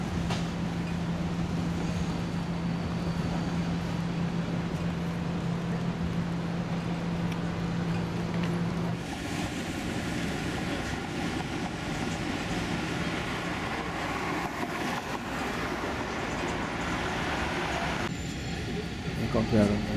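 A Vienna tram, old or modern articulated car, runs past with a continuous loud rumble and wheel noise that shifts in character partway through, a steady mechanical drone filling the whole stretch.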